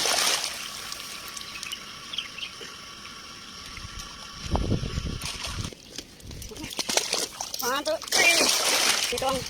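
Labrador dogs swimming, with intermittent splashes and sloshing water that grow louder near the end, mixed with voices and background noise.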